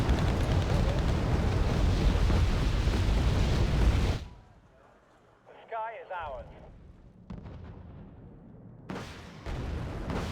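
Artillery fire in the video game Wargame: Red Dragon: a long, loud, dense rumbling barrage that cuts off abruptly, followed by quieter battlefield sounds and a few short bursts before the heavy roar returns.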